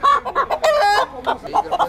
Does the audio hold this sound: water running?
no